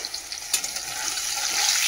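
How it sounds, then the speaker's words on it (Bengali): Fish frying in hot oil in a home kitchen: a close, steady hiss and crackle of sizzling that thickens over a couple of seconds, with a few sharper pops. "চলো মাছটা ভাজা হবে।"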